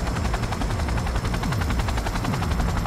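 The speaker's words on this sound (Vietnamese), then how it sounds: "Bây giờ là mình đang chờ cái chiếc trực thăng hạ xuống." Helicopter in the video game Cyberpunk 2077 descending, its rotor producing a loud, rapid, continuous chopping thump with a whining engine layered over it, steady and close throughout.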